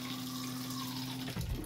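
The electric flush runs on the rotary cassette toilet of a 2004 Swift ACE Award caravan. A steady pump hum gives way to a short rush of water near the end, close and fairly quiet.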